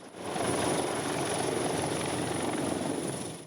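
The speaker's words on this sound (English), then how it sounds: "After a 1-hour helicopter flight, we reached the heart of the South China Sea" Continuous helicopter noise, a loud whirring rotor roar that swells in and holds steady before easing off at the end, during a flight over the South China Sea.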